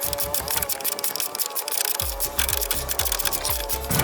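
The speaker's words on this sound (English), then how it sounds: "looks like we can just barely get a ratchet in there" A ratchet clicks in a rapid repeating rhythm as it turns a bolt on a VW Super Beetle under crash repair, close and loud, the clicking growing more pronounced partway through.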